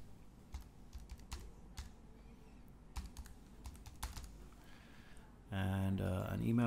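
Fingers typing form details on a computer keyboard, a steady run of light, close key clicks with soft background hum, ending in a louder tonal burst near the close.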